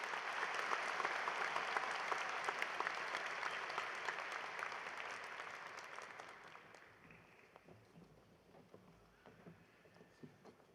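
Sustained crowd applause at a commencement ceremony after a musical performance, loud and dense at first, then gradually thinning and fading out over the final seconds.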